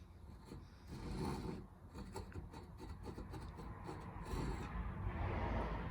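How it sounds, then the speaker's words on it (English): A tenon saw cuts through wood in a workshop, making quiet, rhythmic rasping strokes that repeat steadily and grow slightly louder toward the end. "you can see whether you're sawing straight or not"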